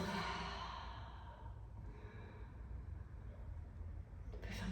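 A long, slow exhale of deep breathing during a guided relaxation exercise, soft and close, fading gently over several seconds with a quieter breath near the end.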